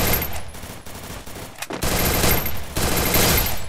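Sustained automatic MP40 fire in the Free Fire battle royale game, loud dense bursts running almost continuously with a brief gap partway through.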